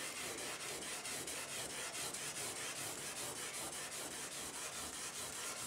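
Steady back-and-forth rubbing of 800 grit sandpaper smoothing out a paint run, a continuous close scratchy hiss with faint regular strokes and no voices.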